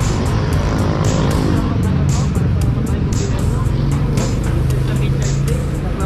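Busy city road traffic with double-parked cars: continuous loud engine rumble of cars and motorcycles passing close, with background voices throughout.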